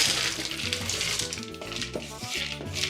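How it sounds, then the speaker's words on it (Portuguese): Tap water pours steadily into a pressure cooker to cover soaked hominy, a continuous close splashing rush with gurgling, no talk. "E agora vamos cobrir com água."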